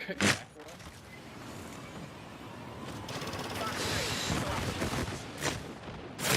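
Gunfire in the online battle royale shooter Apex Legends: sharp shots open the clip, then a sustained rattle of rapid fire builds through the middle, with a few more distinct cracks near the end, all moderately distant.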